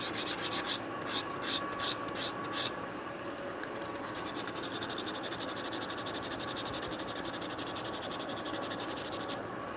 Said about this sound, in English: when I sand the other direction, it wants to grab the grain